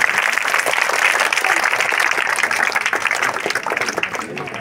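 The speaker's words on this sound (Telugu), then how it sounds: "గట్టిగా క్లాప్స్." A crowd at a girls' school event in Gooty claps loudly and continuously, a dense wash of applause filling the whole stretch before easing slightly at the end.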